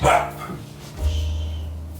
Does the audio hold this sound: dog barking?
yes